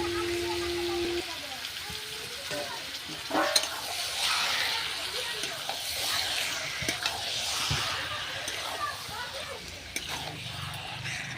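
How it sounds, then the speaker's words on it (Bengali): Meat frying with spice paste in a pan for a curry, a steady dense sizzle with occasional stirring scrapes throughout, close and continuous, a brief tone near the start. "এবার আমি মাংসটা দিয়ে দিচ্ছি, মাংসটাকেও একদম কষে নেব মশলার সাথে"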